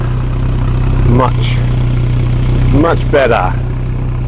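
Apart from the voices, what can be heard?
Volvo 240 engine idling through hot rod exhaust tip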